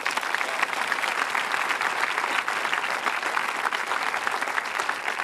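An outdoor audience at the Garma Festival in Arnhem Land applauds in a dense, steady wash of many hands clapping, sustained and fairly loud throughout.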